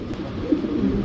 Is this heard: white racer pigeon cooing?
yes